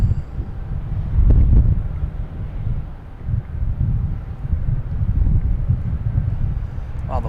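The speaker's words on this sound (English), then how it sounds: "Oh, the wind is gusting at times here." Gusty wind at Boston Logan Airport buffets the microphone in uneven, low rumbling surges that rise and fall across the whole stretch, with no clear voices.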